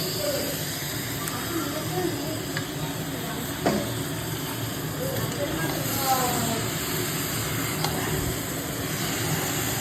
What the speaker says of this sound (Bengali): আর এটা দেওয়ার পরে আমি মাংসগুলো দিয়ে দেবো। এই যে মাংসগুলো ঢেলে দেবো।